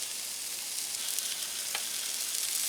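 Tomahawk steak searing in butter in a hot pan, a constant bright hiss and crackle of sizzling fat with small pops, steady and close throughout.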